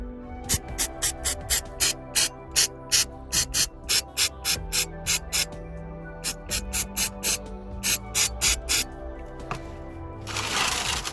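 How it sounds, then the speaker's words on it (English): A string of short, sharp brake cleaner aerosol spray bursts hisses close by, aimed at a car's CV joint gaiter, rapid and rhythmic with brief gaps, ending in a longer continuous spray. "I've got some brake cleaner that we're going to be using to spray up in there"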